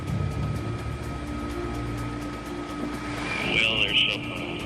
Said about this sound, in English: It's a large helicopter,